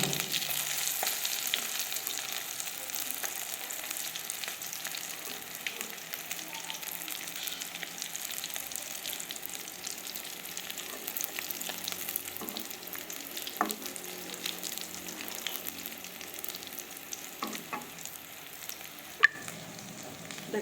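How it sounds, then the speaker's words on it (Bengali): Chicken semai rolls fry in hot oil, a steady crackling sizzle with occasional sharper pops and faint stirring clicks, continuous and fairly close with no talk. "একে একে সব ভেজে নিতেছি"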